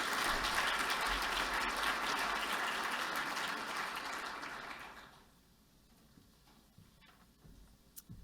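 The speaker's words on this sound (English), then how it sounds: "please join me in one more round of applause as we celebrate and congratulate these outstanding women" Round of applause from a conference audience for award winners at a digital health event, steady clapping for about five seconds, then fading to a quiet room with a few scattered claps.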